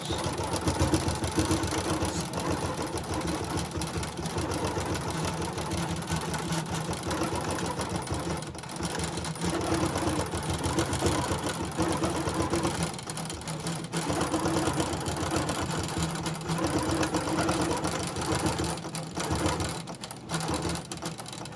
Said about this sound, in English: Drop my needle and turn on the machine. Now I'm doing a back stitch.